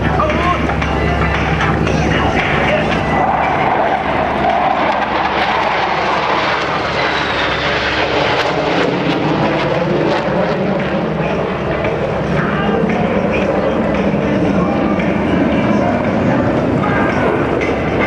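Military jets roar loudly and continuously through a NAS Oceana airshow flypast, a broad sustained engine rumble with a commentator's voice and music running underneath.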